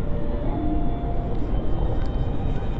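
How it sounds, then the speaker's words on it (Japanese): An airplane taking off at Naha Airport at dusk, a steady heavy roar of jet engines rumbling low and broad, sustained throughout without clear speech. "飛行機が飛び立つ。"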